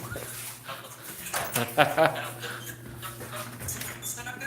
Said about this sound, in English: Now let's try to not let the dogs inside.